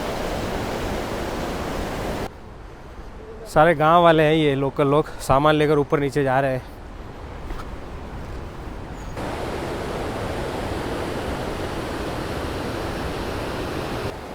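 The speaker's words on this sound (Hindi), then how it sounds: "काफ़ी तेज़ पानी आ रहा है यहाँ से और ये लकड़ी का पुल है" Fast, flood-swollen mountain water rushes under a wooden footbridge in a Himachal village after an upstream dam burst, making a steady, loud roar throughout. Someone talks over it midway.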